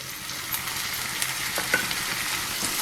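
Onions sauté in hot oil with ginger garlic paste for a paneer curry, giving a steady bright sizzle with a few soft stirring clicks and pops.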